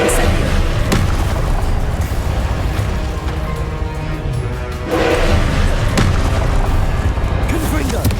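Fire spell blasts in the Hogwarts Legacy video game, deep booming bursts over a continuous rumble of combat noise, with sharp impacts near the start and again around the middle, and game voices mixed in.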